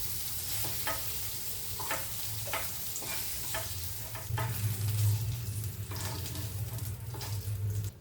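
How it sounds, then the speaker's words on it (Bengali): Mixed leafy greens fry lightly in oil with a steady sizzle and repeated rhythmic stirring scrapes about once a second, the frying growing louder midway, with no talking. "এগুলো খুব বেশি ভাজবো না, হালকা ভাজলাম।"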